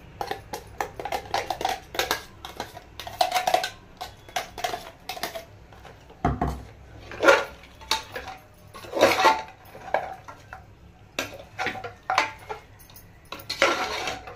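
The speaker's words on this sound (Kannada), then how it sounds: "ಇವಾಗ ಈ ಮಸಾಲೆನ ಇದಕ್ಕೆ ಮಿಕ್ಸ್ ಮಾಡ್ಕೋಬೇಕು." A spoon stirs coconut, tomato and chili powder masala in a metal pot for mutton sambar, making repeated close scraping strokes and clinks in uneven bursts with short pauses between them and no talking.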